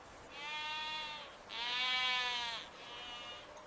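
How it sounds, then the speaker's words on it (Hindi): Awassi sheep bleat three times in long, wavering calls. The middle bleat is the loudest, and the calls are fairly close against quiet background noise. "बाबा देखो, ये अवासी नस्ल की भेड़ें हैं"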